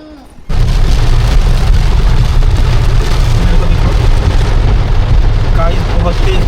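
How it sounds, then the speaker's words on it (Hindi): Heavy rain pours down in a sudden, dense roar that starts after a brief quiet moment and stays loud and steady throughout, during a family trip to Khatu Shyam and Salasar Balaji with a windstorm blowing. "गाइस बहुत तेज बारिश हो रही है"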